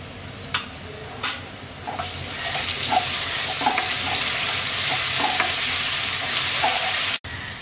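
Chopped onion and ginger garlic paste sizzle steadily in hot oil in a pan, with a spoon scraping and stirring in short repeated strokes, close and continuous.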